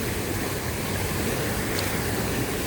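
An overflowing village river in flood, a loud, steady broadband roar of rushing water that fills the whole clip without pause, heard up close with no voices.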